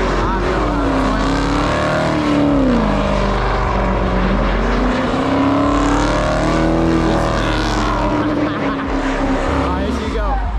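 A Dodge Charger with a 3.09 limited-slip differential drifts in a parking lot, its engine roaring loudly and rising and falling in pitch as it revs. Excited voices talk over it.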